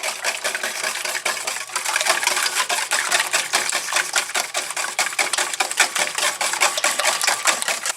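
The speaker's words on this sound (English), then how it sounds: "Add a little sugar in at a time, and just whisk your eggs." A whisk beats eggs with sugar in a bowl for pizzelles, a fast steady run of close clicking, tapping strokes against the bowl with no voices.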